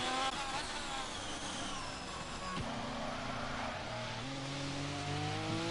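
A Ferrari race car in a racing video game, its engine whining loudly at high revs and shifting pitch through gear changes, steady and close with other cars around.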